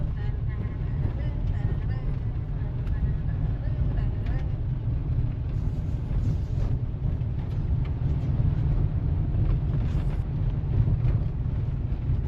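Tyre and road rumble from a Kia Carens diesel driving over a broken, rough road, a steady loud low roar with wind noise filling the whole stretch, no talking.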